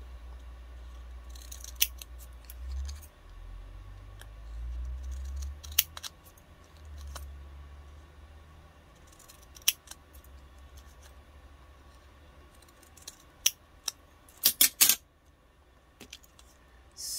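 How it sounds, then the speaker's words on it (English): Thinning shears snip through paper scraps for making grungy vintage stamps, giving sparse, sharp cuts that grow into a quick cluster of snips near the end, over a low background rumble. "So using the thinning shears, it's like perfect."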